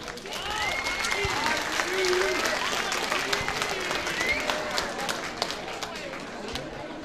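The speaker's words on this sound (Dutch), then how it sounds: "Geef ze een hartelijk applaus." A studio audience applauds two women, Heidi and Marion, on a 1992 Dutch variety show, steady clapping running throughout while music or voices sound over it.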